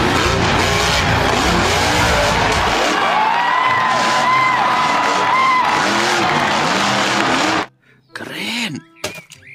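Monster truck engine roaring and tires skidding, with loud, sustained revving and squealing that cut off abruptly near the end, followed by a voice speaking.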